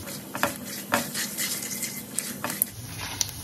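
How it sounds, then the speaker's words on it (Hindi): Cashews and urad dal roasting in a pan for a breakfast premix, giving faint intermittent scraping and stirring clicks from a spatula, with a few brighter ticks over a steady low sizzle and no talk. "काजू का हल्का कलर चेंज होने तक हमें इसे सेकना है"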